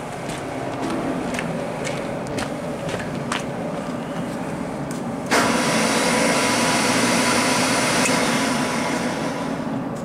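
A car starter motor spins freely without engaging the Bendix gear, giving a steady whirring drone that jumps louder about halfway through and holds steady, close by with no talk.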